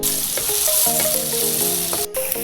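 Tomato going into onions frying in a pan, a continuous close sizzle with a few clinks and scrapes and a brief break, no voices.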